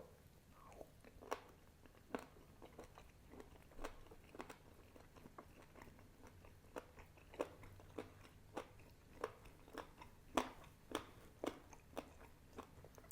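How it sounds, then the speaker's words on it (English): Crispy Family Mart convenience-store fried chicken bitten and chewed close up, a steady series of sharp crunches at irregular intervals over soft chewing, with no talking. "when I start biting into this, hopefully my microphone is going to pick up the crunchiness, because this is really crunchy"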